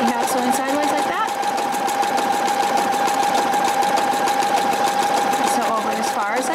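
A Brilliance 75Q sewing machine hums loudly and continuously as it sews a sideways triple straight stitch, a dense, even mechanical whir with a rapid rhythmic chatter, close and steady throughout.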